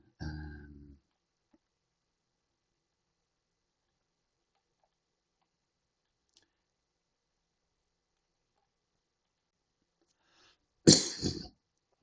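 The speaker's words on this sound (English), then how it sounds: "Sorry for the coughing" A short burst of harsh coughing near the end, after a long quiet stretch that opens with a brief voiced sound.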